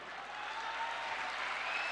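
An audience at a Hindi comedy poetry gathering claps steadily, a soft, even wash of many hands heard from a distance with no voices over it.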